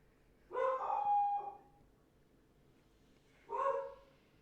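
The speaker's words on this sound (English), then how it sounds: "oh, there goes my dog." A dog gives two drawn-out howling barks a few seconds apart, nearby and loud, with quiet in between.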